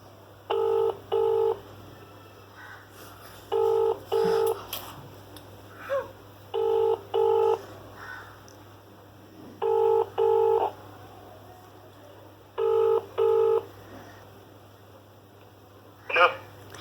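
A phone call being placed, with bursts of paired DTMF keypad tones repeating in clear groups every few seconds, loud and close, followed by a brief sharp click at the end.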